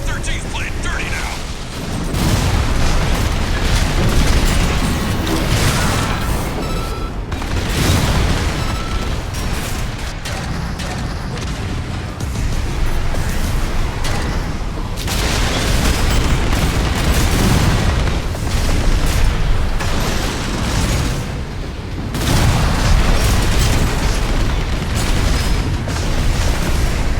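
Gunfire and explosions in Armored Core VI, a dense, loud, continuous barrage of booms, bursts and mechanical clatter throughout, with a voice speaking over parts of it.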